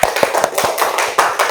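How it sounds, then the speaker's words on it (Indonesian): A classroom group claps for the first team to present, a dense burst of hand claps with sharper individual slaps standing out, loud and close, with no voices. "Kita beri tepuk tangan dulu dong untuk kelompok 1."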